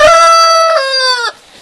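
A rooster crows loud and close in one long harmonic call that holds steady, then drops off sharply at the end.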